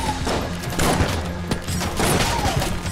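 Sniper gunfire in the video game Enter the Gungeon, a dense run of loud rapid shots and crashing impacts filling a busy game mix.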